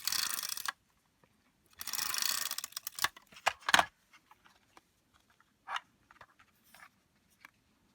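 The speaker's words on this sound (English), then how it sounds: "So I'm just going to use some tape runner on the back here" Close, quiet zipping of a tape runner drawn along the back of a layered artwork, two longer strokes followed by scattered light taps and rustles.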